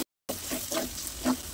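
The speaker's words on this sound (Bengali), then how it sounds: "সবগুলা মশলাই তেলের উপর একটু ভাজবো" Ground spices, including coriander powder, fry in oil in a pan, giving a close, steady sizzle with brief bursts of louder crackling after a short moment of silence. No one speaks.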